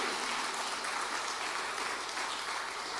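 A church congregation applauding during a sermon, a dense continuous patter of many hands clapping at once, steady and moderately distant, with no voices over it.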